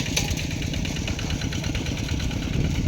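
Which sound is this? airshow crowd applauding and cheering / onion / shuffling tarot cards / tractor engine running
tractor engine running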